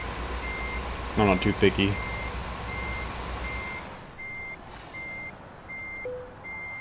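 A truck in Euro Truck Simulator 2 reverses with a steady, evenly spaced electronic backup beep repeating over engine rumble, while someone talks briefly over it.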